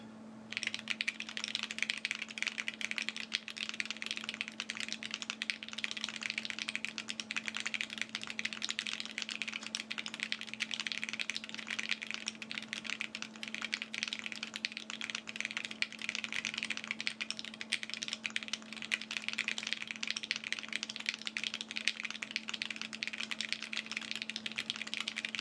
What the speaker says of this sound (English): Okay, one more typing test,